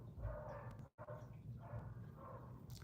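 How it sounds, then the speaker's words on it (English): Dogs bark at a house with a pool and jacuzzi, sounding muffled and somewhat distant through steady background noise, with a brief dropout partway through. "I think the pool people just came here right now because my dogs are barking."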